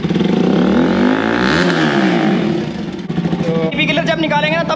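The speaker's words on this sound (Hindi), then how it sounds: "देखना मैं थ्रॉटल दूंगा भाई।" A Kawasaki Ninja 300 motorcycle engine is revved hard with the throttle, the pitch climbing and falling in a loud, close roar. Voices talk over the engine as it settles back.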